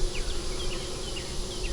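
Honeybees hum steadily in an open beehive, hive number 516, which holds one queen cell. The buzzing is a close, even drone that fills the whole stretch, with no one speaking.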